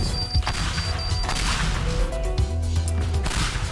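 Bombs explode in the video game Teardown, dense overlapping crashes and bursts over a continuous rumbling roar of collapsing debris, loud and close.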